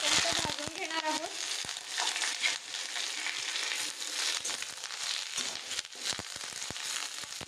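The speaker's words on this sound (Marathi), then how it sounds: "आता आपण कढईमध्ये थोडंसं तेल घालून जे कढीपत्त्याचे पानं आपण धुवून घेतलेले आहेत त्यांना छान असं क्रिस्पी होईपर्यंत भाजून घेणार आहोत." Washed curry leaves fry in hot oil in a wok with a loud, steady sizzle and crackle. Sharp clicks from stirring break in throughout.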